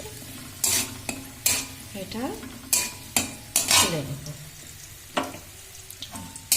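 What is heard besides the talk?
frying ingredients for fried rice in a pan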